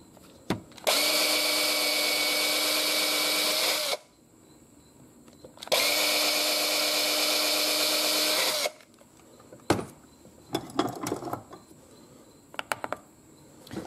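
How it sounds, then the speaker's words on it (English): A power drill bores out a hole in a handmade lead fishing lure mold, two sustained whirring runs of about three seconds each with a short pause between, followed by faint clicks and handling knocks. "Well, I'll drill it out more."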